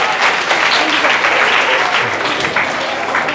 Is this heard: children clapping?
yes